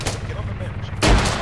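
A thrown grenade going off in the military video game ARMA 3, one loud blast near the end after ongoing ambient noise, with voices in the background.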